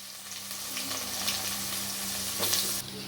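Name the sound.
chopped onions frying in ghee with cinnamon, cloves, cardamom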